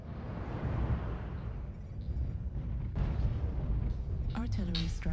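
Artillery strike explosions in a video game roll out as heavy, continuous booming rumbles, and a voice briefly cuts in over them at the end.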